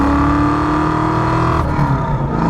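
A 1990 Ford Mustang GT with a Procharged 5.0 and five-speed manual pulling in third gear, a loud, steady engine drone heard from inside the car that rises slightly near the end.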